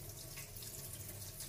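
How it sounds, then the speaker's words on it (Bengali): Tap water runs steadily over a peeled mango being washed at a kitchen sink, a continuous close splashing hiss with no pauses. "এবার আমটাকে খুব ভালোভাবে জল দিয়ে ধুয়ে নেবো"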